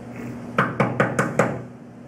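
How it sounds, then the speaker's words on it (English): Five sharp knocks on a door in a steady, evenly spaced rhythm, close and fairly loud over a low steady hum, with no talking. "here I stand at the door and knock."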